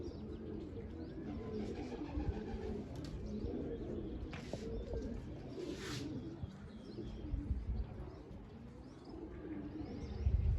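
Pigeons released from a loft on open farmland, soft repeated cooing close by with a few brief bursts of wing flaps and chirps, no voices.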